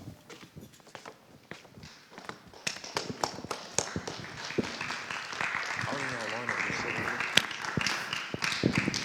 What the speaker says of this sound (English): Let's clap it up for Femi.